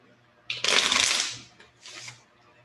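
A deck of tarot cards is shuffled nearby: one long riffling burst followed by a shorter second riffle.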